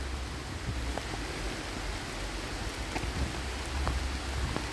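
Steady rain falls outdoors in Wilton, Batley, UK, a soft, even hiss with occasional closer drips and taps standing out over the constant wash.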